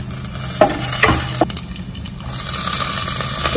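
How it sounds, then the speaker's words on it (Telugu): Spices and lentils for a tempering fry in hot oil in a pan, giving a continuous sizzle with a few stirring scrapes and knocks, close and fairly loud. "మనం అన్ని పోపు దినుసులు అన్నీ వేసేసుకున్నాము."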